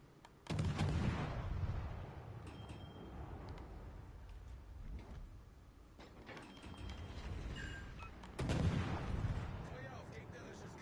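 Naval guns fire on an enemy warship in World of Warships: Legends, with two heavy booming salvos several seconds apart over a constant low engine rumble and mechanical clanks.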